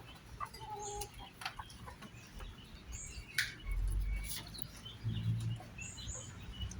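Bantam chickens, an ornamental Thai breed, cluck and call in short scattered bursts close by, with a few higher chirps and some low rustling in between.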